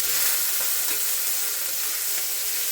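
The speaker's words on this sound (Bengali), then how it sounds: "এইবার দিয়ে দেবো হচ্ছে এই সবজিগুলো।" Vegetables including cauliflower dropped into hot oil tempered with cumin seeds, frying with a loud, dense, continuous sizzle heard close and alone.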